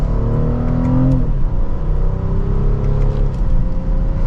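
A 2025 BMW X6 xDrive40i accelerates in Sport Plus mode in second gear, heard from inside the cabin as a loud, steady engine drone with rising tones over a low road rumble.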